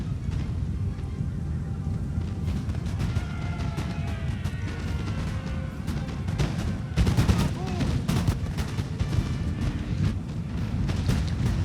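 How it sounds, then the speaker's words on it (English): Musket volley fire from lines of infantry, including Coldstream Guards, in Napoleon: Total War, with crackling shots popping irregularly over a low rumbling battle din, growing denser midway, and voices faintly mixed in. "Two lines of volley now going on his Coldstream Guards"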